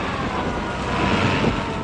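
A helicopter in flight gives a dense, loud, continuous roar of rotor and engine noise that fills the short stretch steadily, with no voices.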